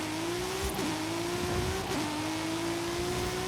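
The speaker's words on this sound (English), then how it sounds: "What a sound this engine makes." A car engine in the racing game Forza Horizon 5, a high-powered build short on traction, holds a loud steady drone that rises in pitch with brief dips at gear shifts, close and continuous with no talk over it.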